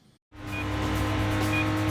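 Car driving in the Stuntman video game: after a brief gap, a loud steady engine drone with tire noise rises quickly and holds close and constant, with no talking.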